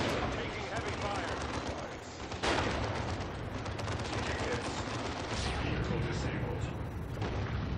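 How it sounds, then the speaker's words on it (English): Heavy gunfire and explosions from the strategy video game Dawn of War 2 Retribution, a dense continuous barrage of shots and booms with brief voice lines mixed in. "Taking heavy fire."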